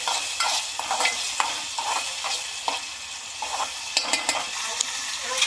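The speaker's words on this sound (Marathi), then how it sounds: "आता आपण यांना कांदा आणि टोमॅटो चांगला तेलामध्ये पहिले फ्राय करून घेऊया" Onion and tomato frying in oil for Malvani chicken: a dense, continuous hiss of sizzling with frequent spatula stirs and scrapes against the pan, close and steady throughout with no talking.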